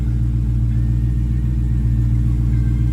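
A 500-horsepower car with a manual transmission idles with a deep, steady engine rumble, loud and close, without any clear rev climbing above the low throb.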